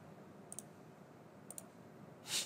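Computer mouse clicks sound in two quick double-clicks about a second apart, crisp and faint in a quiet room, followed by a short soft rustle.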